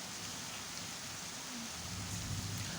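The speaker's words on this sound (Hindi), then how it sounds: "जिस दिन ये वीडियो बना रहा हूँ उस दिन ये आज बारिश का मौसम है।" Rain falling outdoors during a rainy spell, a soft, steady, even hiss heard from a distance with no voices over it.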